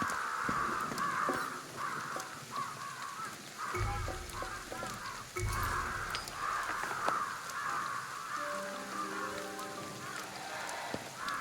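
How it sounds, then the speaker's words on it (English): Crows caw repeatedly in a video game set in Tokyo, mid-loud harsh calls recurring through the scene over a steady ambient bed with soft rain-like texture. "I hear crows."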